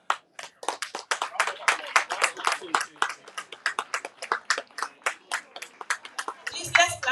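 A ceremony audience claps for the chairman at a school anniversary and graduation event in Akropong, with sharp, uneven handclaps at a steady close pace that swell into a denser burst near the end.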